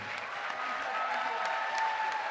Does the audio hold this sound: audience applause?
yes